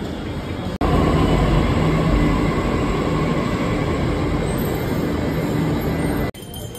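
Interior rumble of a Delhi Metro train in motion, a steady loud mechanical drone with whining tones, cut off abruptly at the start and end.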